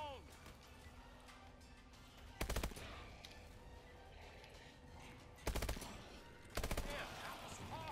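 Gunfire from a pistol and IMR rifle in the Advanced Warfare Exo Zombies video game, with three loud bursts of shots standing out over a steady bed of game noise and effects.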